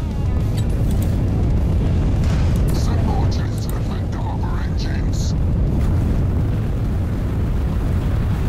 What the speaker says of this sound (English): One more bombing round.